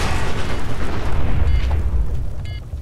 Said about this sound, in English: a nuka grenade, 3 Fat Man shells, and some spray and pray clean him up pretty handily